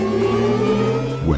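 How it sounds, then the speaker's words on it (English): Synthetic Audi R8 e-tron electric car sound played as the gas pedal is pressed: a steady, loud tonal hum with layered drones, then a rising whine that sweeps upward near the end. "These are elements of the Audi R8 e-tron sound"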